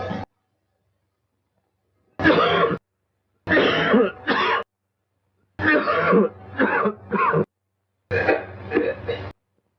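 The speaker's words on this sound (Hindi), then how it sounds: "आज फिर खांसी आने लगी?" Several rough bouts of coughing and throat clearing from a man with a cold come in separate bursts with short silences between them, close and fairly loud, in a 1961 Hindi film.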